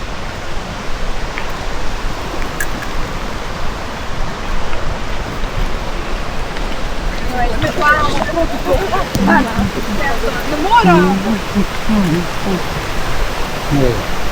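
Kamniška Bistrica river flowing steadily beside a walking path, a continuous broadband rush of water throughout, with people talking faintly in the background during the latter half.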